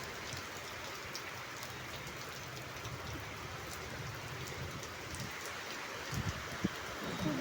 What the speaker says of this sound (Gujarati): ખૂબ જ પવન અને ખૂબ જ સ્પીડમાં વરસાદ આવી રહ્યો છે